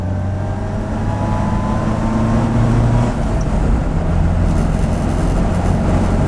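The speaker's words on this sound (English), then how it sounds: "Nice torquey engine as well." Engine of a Datsun (Nissan) Sunny B10 on the road, heard from inside as a steady low droning hum with faint tonal whine, continuous and fairly loud with no one talking.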